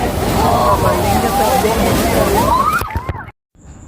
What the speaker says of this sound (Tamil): ஃபுல்லா கடலுடைய தண்ணி வந்து அதெல்லாம் அடிச்சு